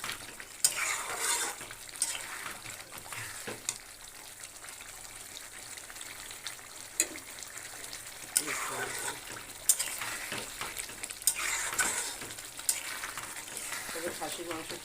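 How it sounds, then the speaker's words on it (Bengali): Mutton frying and being stirred in a pan: a steady sizzle runs throughout, with repeated scraping and clinking as the meat is turned. Occasional splashy bursts break in, and no one speaks. "এবার এটা খুব ভালো করে কষিয়ে দেবো।"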